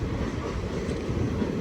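The Bhubaneswar-Visakhapatnam Intercity Express pulls into Srikakulam Road station, a loud, close, continuous low rumble and roar of the moving train with wind buffeting the microphone and no voices.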